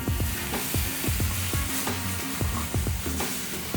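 White wine sizzles loudly in a hot pan of braising fennel, a steady crackling hiss broken by repeated scraping and stirring strokes in an uneven rhythm, close and continuous.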